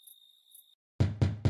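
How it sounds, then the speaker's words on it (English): In the vampire video game Suck Up, a door is knocked three times, loud and close, after a brief faint electronic tone and a moment of silence. "Let me knock on the door."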